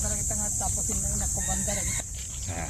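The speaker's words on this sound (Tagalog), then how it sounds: "Maraming chicken dito yo." Chickens clucking in Pasir Ris Park, Singapore, a family of birds giving a run of short, close clucks and calls against outdoor background noise.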